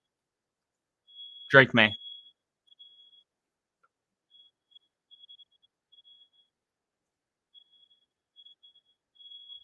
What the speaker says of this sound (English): Fire alarm went off there for a minute.